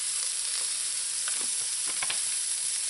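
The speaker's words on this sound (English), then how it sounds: "We're going to saute this until it's nice and soft" Vegetables sauteing in a pan for a lasagna meat sauce, a steady close sizzle and hiss running throughout with a few faint stirring scrapes, no voices.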